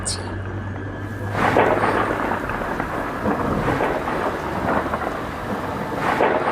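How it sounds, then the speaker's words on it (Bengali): Distant thunder rumbles over steady heavy rain on a dark night, a cartoon storm sound effect, with rolling low booms recurring every second or two and no voices. "দূরে কোথাও বিদ্যুৎ চমকাচ্ছিল।"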